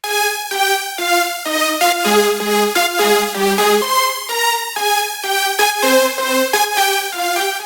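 A bright, buzzy synthesizer lead plays a quick stepping melody with chords beneath, dry and upfront, with no voices.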